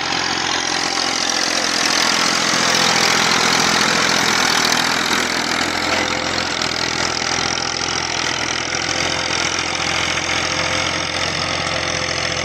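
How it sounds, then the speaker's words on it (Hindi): A tractor plowing a field runs steadily with a loud, continuous engine drone and rumble that holds without pause throughout. "तो आप देख सकते हैं कि ये एक ट्रैक्टर है जी"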